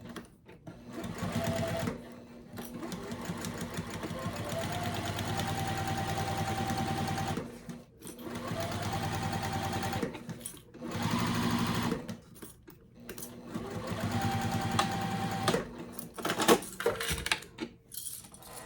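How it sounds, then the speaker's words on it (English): A sewing machine stitches a bag lining in several sustained runs of rapid mechanical whirring, broken by short pauses and light clinks of handling, close and clear with no talk. "we're going to sew a 1/2 inch"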